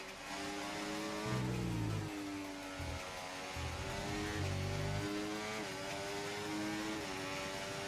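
F1 race cars in an F1 video game screaming past during an overtake, high-revving engines with rising and falling pitch, loud and close, with gear shifts and no talk.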